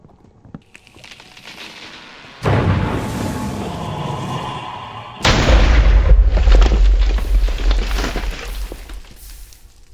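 Explosion in a Minecraft modpack game near lava: a sudden loud boom at about two and a half seconds, then a second, heavier blast with rumbling debris that lingers and slowly fades.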